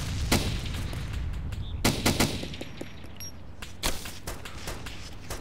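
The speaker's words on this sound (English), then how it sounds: "Shooting right at you, man." Rapid bursts of automatic gunfire and scattered single shots ring out from a realistic PC war game, with several sharp loud volleys over a steady battlefield rumble.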